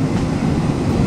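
A train passing close by, a steady loud low rumble and rolling wheel noise with no clear gaps, heard alone for about a second.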